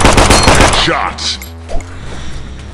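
In the mobile shooter Killstreak.tv, a loud, fast burst of automatic gunfire cuts off abruptly, leaving quieter game ambience and a single sharp thwack.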